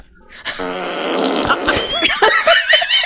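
A voice assistant plays a wet fart sound effect, a long buzzing, sputtering flatulent noise that swells and then breaks into wetter bubbling bursts, loud and close, with laughter and voices mixed in near the end.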